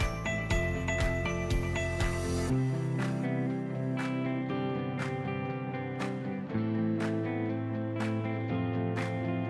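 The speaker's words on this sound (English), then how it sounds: "the front wheel should be rotated during the tightening process to check whether the front wheel is flexible" Front wheel of a GaeaCycle Lvbao electric passenger tricycle being tightened and spun, giving a steady mechanical ratcheting whir with repeated sharp metallic clicks and ringing taps, fairly close and continuous.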